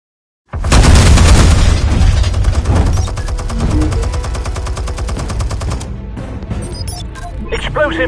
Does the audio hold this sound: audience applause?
no